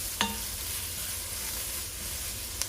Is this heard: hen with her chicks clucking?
no